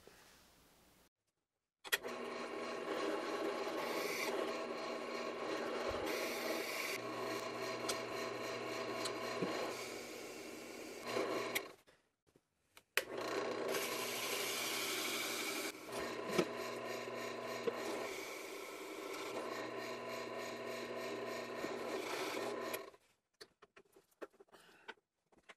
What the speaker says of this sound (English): So now we'll go over to the drill press and then cut out our basic shape.